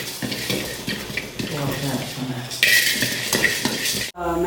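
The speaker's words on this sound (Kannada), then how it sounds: "ಜೀರಿಗೆ, ಕೊತ್ತಂಬರಿ ಮತ್ತು ಸೋಂಪು ಒಟ್ಟಿಗೆ ಹಾಕಿ ಫ್ರೈ ಮಾಡ್ತೇನೆ" Cumin, coriander and fennel seeds fry in a little oil with a loud, continuous sizzle and crackle, broken by scraping and clinking of a spoon stirring in the pan, cutting off abruptly at the end.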